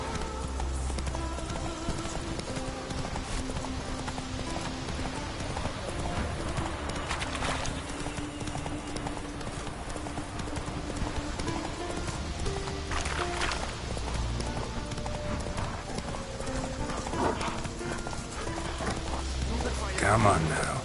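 Roach the horse in The Witcher 3 galloping steadily with continuous rhythmic hoofbeats and an occasional whinny, over background music and a voice talking.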